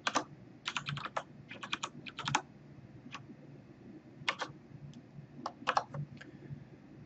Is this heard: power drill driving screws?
no